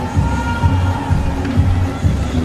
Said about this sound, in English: The crowd loved it.